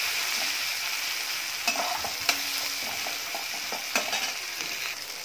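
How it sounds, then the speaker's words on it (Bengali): Chopped tomato tipped into onions fried until reddish-brown in a pan, a steady close sizzle broken by scraping stirs and a few sharp clinks of a spoon against the pan. "পেঁয়াজটা ভালো করে লাল লাল করে ভেজে নিয়েছি। এবার এর মধ্যে দিয়ে দিলাম টমেটো।"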